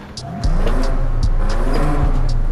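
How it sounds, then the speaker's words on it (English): A car with its stock exhaust revs in Forza Horizon 5, a loud, close engine that rises sharply after a brief quiet start and holds a steady, buzzing drone with repeated pulses. "let's hear the stock exhaust first"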